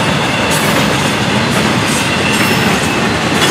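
FEC 101, a Florida East Coast freight train with double-stack and piggyback cars, roars past close by. The wheels rumble and clack on the rails in a loud, continuous wash of noise.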